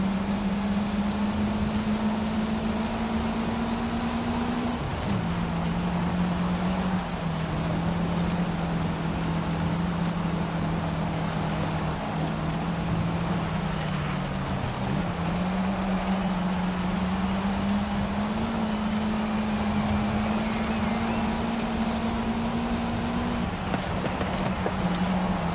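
Turbocharged inline five-cylinder car engine in Forza Horizon 5, a steady droning hum held at near-constant pitch with small dips and rises, continuous and alone throughout.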